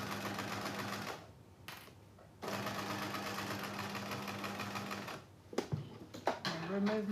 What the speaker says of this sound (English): I'm going to sew and back stitch, and then all the way to the end.